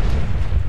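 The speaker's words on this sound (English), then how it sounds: "Get your Fatman ready, keep some distance, and" Fat Man launcher blast in Fallout 4, a single loud, deep, rumbling boom filling the short moment close up with no voices.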